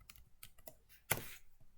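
Quiet, close typing on a computer keyboard, a scattered run of soft key clicks with one louder clack partway through.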